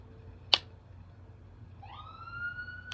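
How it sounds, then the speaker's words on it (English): A siren outside begins a rising wail and holds at a steady high pitch, fairly faint and at a distance, after a single sharp click, with no talk. "I hope y'all didn't hear that siren."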